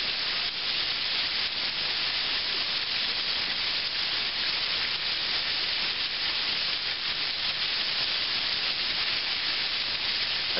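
A flour-and-grease mixture for chicken fried steak bubbles and sizzles in a pan as it cooks, giving a steady, close, hissing fry that holds constant the whole time, with no talk over it.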